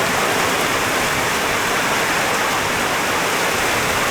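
Torrential downpour of rain, a dense, loud and steady roar of heavy water falling without a break, filling the whole stretch with no voices.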